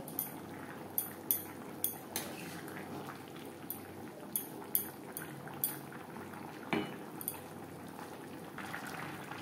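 Bhola bhetki fish pieces simmering in curry gravy with small potatoes make a faint, low bubbling bed, dotted with scattered soft clicks and pops. No one speaks.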